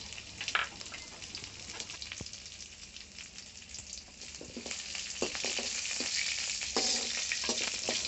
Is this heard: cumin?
yes